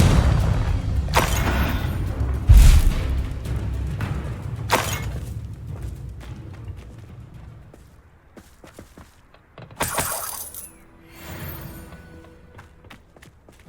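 Confringo spell blasts go off in Hogwarts Legacy, several sharp explosive bursts with low booming thuds spread across the span, interleaved with quieter combat movement and scuffling.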